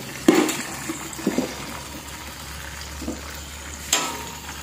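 Fish dropped into a pot of boiling liquid, giving a burst of splattering at the start, then a steady rolling bubble with a few smaller splashes and another sharp spatter near the end.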